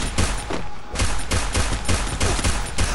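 Rapid bursts of USP pistol gunshots in the battle royale game Free Fire, loud repeated cracks in an irregular fast rhythm filling the whole stretch with dense gunfire noise.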